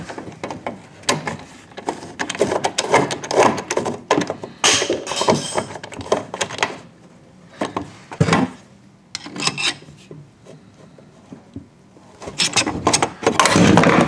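A Klein conduit locknut wrench tightens a half-inch locknut, giving close, repeated gritty scraping and rasping bursts of metal on metal with short pauses between strokes, and no talking.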